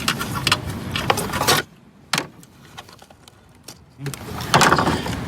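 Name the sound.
fastening a nut down on a Chevrolet Cruze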